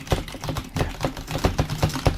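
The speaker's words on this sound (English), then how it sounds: "it's pretty obvious that you're doing some typing" Typing on a computer keyboard gives quick, fairly soft clicks in an irregular rhythm, close by with no talking.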